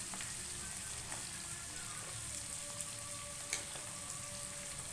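Chopped beans and carrots fry in a pan for a home-style vegetable kurma, a soft, even sizzle with faint crackles running throughout, steady and close with no voices.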